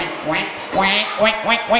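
A voice imitates a duck with four loud, nasal quacks, close and in an uneven rhythm.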